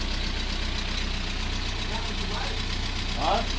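A VW Corrado with an ABF engine idles steadily right after its first start, a continuous low rumble with a slight knocking quality, with people talking over it.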